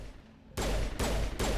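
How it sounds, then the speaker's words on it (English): Three heavy gunshots from a weapon in Mass Effect Legendary Edition follow a quiet moment, each a loud, booming blast with a lingering tail, fired in a slow, even rhythm. "What's this button do? That's my gun."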